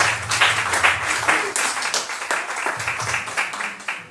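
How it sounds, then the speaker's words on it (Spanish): A church congregation claps loudly together in sustained applause during a Spanish-language worship service, dense and continuous with no gaps. "Denle un fuerte aplauso a Jesús."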